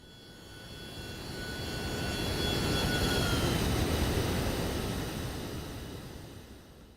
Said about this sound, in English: the flyby sounds are not bad